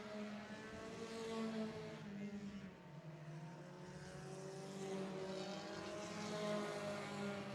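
An 06 Dodge Neon race car at Barrie Speedway runs down the backstretch with a steady, droning engine note, its pitch wavering and dipping briefly midway as it sputters along at moderate distance.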